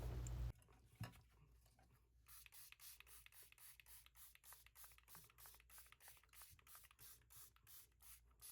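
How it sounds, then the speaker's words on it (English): Quick, regular hissing spritzes from a spray bottle soaking both sides of a sheet of paper, fired in a fast steady rhythm, close and soft, with no talking. "Just spray it so that I am saturating both sides of it with my"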